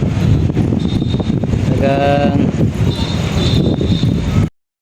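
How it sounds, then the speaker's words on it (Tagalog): Loud, steady wind roars and buffets the microphone in Tagaytay, with a voice faintly heard through the gusts, cutting off abruptly at the end. "lakas lakas ang hangin dito"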